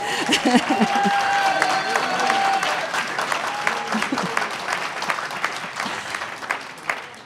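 Steady audience applause fills a political party congress hall in France for a woman's speech at the 2019 Mouvement Radical congress, a dense, even wash of clapping with a few voices rising faintly beneath it.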